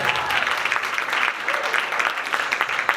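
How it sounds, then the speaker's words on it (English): An audience at a school event gives a steady round of applause, with many hands clapping in a continuous, fairly close wash of sound lasting throughout. "So let's give them a round of applause."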